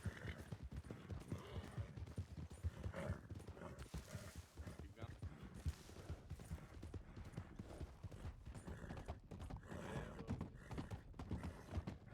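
Horses gallop in a Wild West roleplay video game, their hooves clip-clopping quickly and steadily under ongoing talk and background commotion, with an occasional faint whinny.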